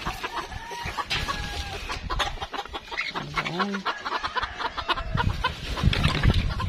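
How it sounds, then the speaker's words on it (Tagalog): Small bantam chickens cluck and chatter close by in a backyard compound, with a rooster crowing once partway through, while a person speaks briefly over the birds. "maliliit lang yung mga bantam na manok"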